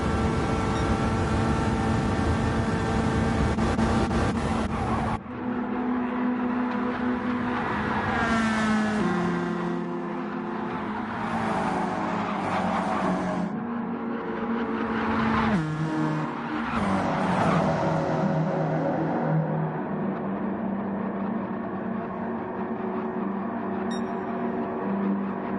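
Stock race cars howl around the track during a duel qualifying race, a loud continuous roar of several engines with pitch sweeps as cars pass close by, sustained throughout without talk.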